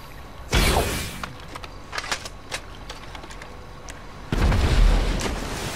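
Weapons fire in GTA Online, with two loud booming blasts a few seconds apart and scattered mechanical clicks and pops between them, with no talk.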